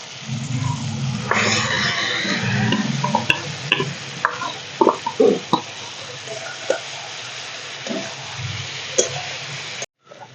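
Masala-coated boal fish going into frying tomato and onion, with close crackling sizzle, scattered clicks and spatter pops, and stirring scrapes over a low background hum.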